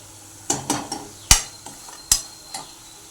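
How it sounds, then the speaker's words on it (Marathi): Masala with water and tomatoes is stirred in a pan, with a few scraping strokes and sharp utensil taps against the pan over a soft sizzle, each stroke fairly close and distinct. "मी थोडंसं पाणी घातलं मसाल्यामध्ये आणि हे असं छान परतून घ्यायचं आपल्याला"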